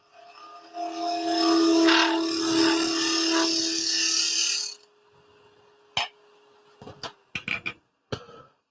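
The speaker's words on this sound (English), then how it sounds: "Get a nice shear scrape going." A half-round bar makes a shear scrape on a small wooden scoop spinning on a woodturning lathe: a steady, close, raspy scraping over a low motor hum lasts about five seconds, then cuts off, followed by a few sharp knocks and clicks.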